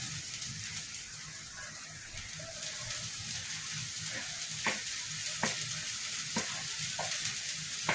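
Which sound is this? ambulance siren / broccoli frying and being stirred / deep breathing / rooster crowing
broccoli frying and being stirred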